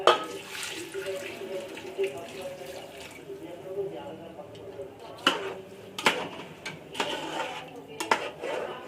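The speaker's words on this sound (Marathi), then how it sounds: "बघा मी हे पाणी आता त्याच्यात टाकणार आहे" Water splashes into a cooking pot of mutton and rice for pulao, with clattering pot and utensil knocks in the second half and someone talking over it.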